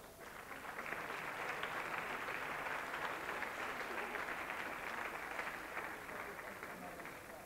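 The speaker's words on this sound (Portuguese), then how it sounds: "O digníssimo maestro. Palmas!" A folk festival crowd at the Danças de São Nicolau in 1998 claps for the maestro, with steady broadband applause that swells quickly and holds evenly for several seconds.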